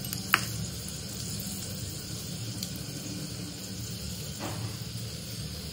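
Cumin and chilies frying in ghee for a tempering, a steady close sizzle with faint crackles and a couple of brief clinks, continuous and fairly quiet.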